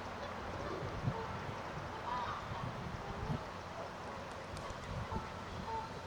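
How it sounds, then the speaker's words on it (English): Canada geese honk intermittently at a distance amid a busy outdoor flock with gulls and pigeons, the calls faint and scattered over steady ambient background, with a few soft voices nearby. "you've got your Canada goose"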